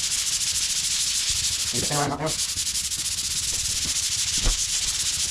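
Continuous sanding of drywall joint compound, a loud, close, rasping hiss of abrasive rubbing, with a brief voice and a thud partway through.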